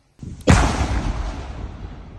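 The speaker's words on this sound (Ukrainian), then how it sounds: "Вогонь. Вибух." A sudden loud explosion booms once as police bomb technicians detonate a drone warhead at a temporary demolition site, followed by a long rumbling roar that slowly fades.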